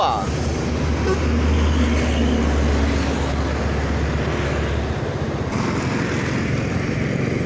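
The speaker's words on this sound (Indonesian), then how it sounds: "Masuk lagi bus dari Sumatera Barat NPM V22" A West Sumatra intercity bus, an NPM V22, passes on Jalan Soekarno-Hatta in Palembang. Its engine gives a steady, loud, low rumble that runs for about five seconds, with road traffic noise continuing behind it.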